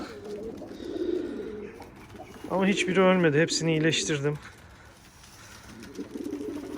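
Racing pigeons coo in a loft, a strong, close burst of throaty warbling calls swelling in the middle while someone speaks before and after.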